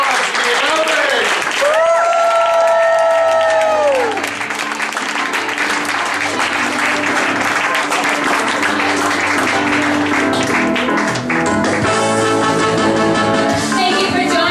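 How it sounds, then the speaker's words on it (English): Loud, sustained audience clapping at a live stage show for a comedy podcast, a dense wash of applause running throughout, with musical tones and a voice heard early on. "Get your hands clapping."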